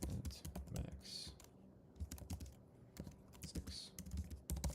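Code being typed on a computer keyboard, a quick irregular run of close, crisp key clicks with brief pauses between bursts, plus faint low sounds in the background.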